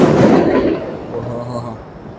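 Firecrackers pop and crackle outdoors at a distance in Bengaluru, a dense burst fading into scattered rumbling over a couple of seconds.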